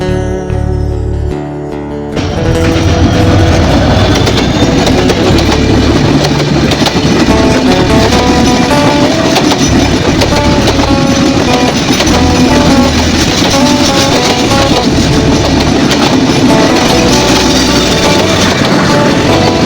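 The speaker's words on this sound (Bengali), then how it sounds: "সুন্দর একটি পুরনো রেলওয়ে স্টেশন।" At an old railway station, a train rumbles past loudly and continuously with heavy rolling clatter, following a brief musical opening.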